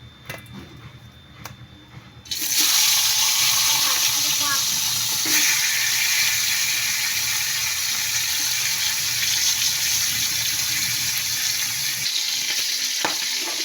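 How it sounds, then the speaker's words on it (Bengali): Hilsa fish heads dropped into hot oil, setting off a sudden loud, steady sizzle that keeps going for many seconds after a quieter start, with no talking. "তেলটা গরম হয়ে গেছে, এতে আমি মাছের মাথাগুলো দিয়ে দেবো।"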